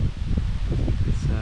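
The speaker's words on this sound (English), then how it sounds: "It's windy up here." Wind gusts steadily across a hilltop above Raystown Lake in autumn woods, a continuous low rushing roar with rustling, close and loud, and a voice speaking briefly beneath it.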